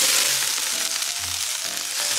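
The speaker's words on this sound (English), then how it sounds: "we're gonna saute the vegetables" Cabbage, mushrooms and other vegetables sauté in a little oil in a pan, giving a steady, close sizzle and crackle with a low bubbling undertone throughout and no voices.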